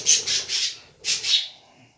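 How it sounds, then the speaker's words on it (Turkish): A parrot gives four harsh, loud squawks close by, in two quick pairs separated by a short gap, with no talk over them. "Gayet güzel bir papağan."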